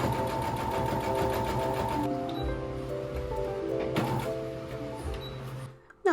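A sewing machine joins quilt squares into rows with a fast, even, ticking stitch for about two seconds, then keeps running more softly amid small clicks and handling noises.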